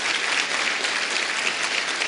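An audience at a political speech applauds steadily, a dense and even wash of many hands clapping at close range with no voices over it.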